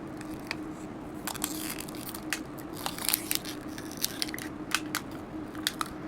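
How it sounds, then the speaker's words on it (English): Plastic packaging around a Christmas ornament is ripped open up close, giving irregular crackling crinkles and sharp snaps over a steady low hum. "I had to rip the plastic."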